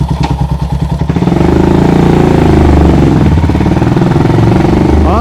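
A custom Royal Enfield Himalayan motorcycle built by Smoked Garage cranks over with a rapid starter chatter, then catches and settles into a loud, close, steady single-cylinder idle.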